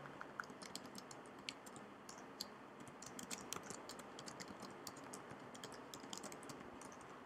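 Fast, steady typing on a computer keyboard while writing a Python script, with dense clicking keystrokes at close range over a soft background hiss and no talking.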